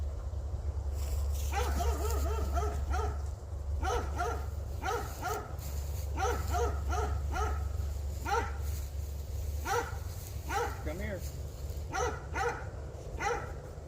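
A playful dog lets out repeated whimpers and yippy barks in quick bursts during a game of frisbee over a steady low engine rumble, while a man calls to it now and then.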